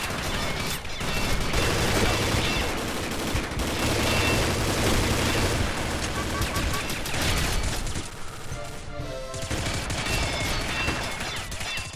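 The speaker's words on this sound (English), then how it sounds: "bullets flying past my face" Dense video game gunfire with weapons like a UMP and P90, sustained bursts and rattling shots layered thickly for the whole stretch, loud and close, with voices talking over it.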